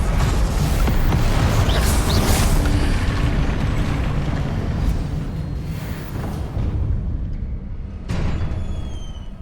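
Spell blasts and fiery Confringo explosions erupt in the wizarding action game Hogwarts Legacy, a loud, continuous rumble of booms and bursts that eases toward the end, with one last sharp crack.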